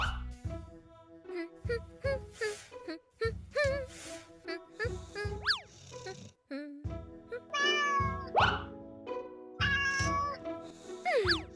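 Several cats meow repeatedly and insistently, some calls rising into high, drawn-out wails, close and loud with no talking.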